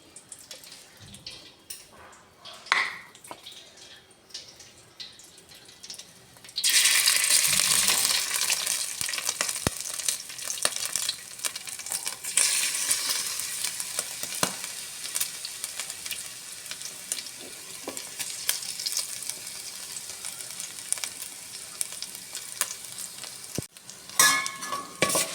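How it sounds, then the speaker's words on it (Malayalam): Ginger and garlic dropped into hot oil set off a sudden loud sizzle after a quieter stretch of small kitchen knocks, and the frying crackles on steadily, fading slightly near the end. "ഇഞ്ചിയും വെളുത്തുള്ളി ഇട്ട് അത് മൂപ്പിച്ചെടുക്കാം."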